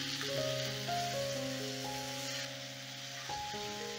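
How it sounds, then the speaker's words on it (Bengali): Onion, ginger, garlic and tomato masala sizzles in a pan with a steady, soft crackling hiss. A melodic music bed plays over it throughout. "এবারে এই মশলাটাকে মিনিট 2 কষিয়ে নেব, যতক্ষণ না আদা, রসুন আর পেঁয়াজের কাঁচা গন্ধটা যাচ্ছে আর টমেটোটা গলে যাচ্ছে"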